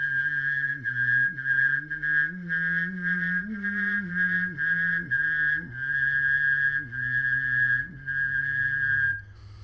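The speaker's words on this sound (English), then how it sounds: "I would hold a whistle, the same whistle note, and try to vary the bass" Bass-whistling: one person holds a steady, clear whistled note while a lower hummed bass voice shifts pitch underneath, sustained for several seconds with brief breaks between phrases.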